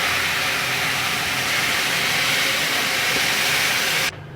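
Milk poured into hot semolina halwa in a pan on low heat sets off a loud, steady sizzling hiss that runs evenly for about four seconds and then drops away suddenly.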